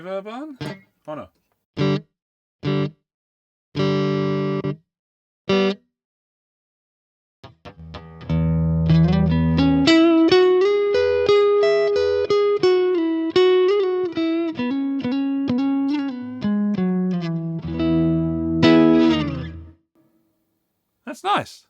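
Clean electric guitar notes and strummed chords ring out through a Vox Cambridge 50 modelling amp with a reverb tail, starting as short separate plucks and then sustaining.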